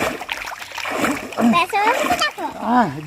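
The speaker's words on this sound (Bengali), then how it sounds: "আমি এই যে পা উপর দিকে করে এরকম করে সাঁতার কাটতে পারছি" Someone swimming in a pond makes water splashes mixed in among people talking, with a voice, and the splashing comes in irregular close bursts under the conversation.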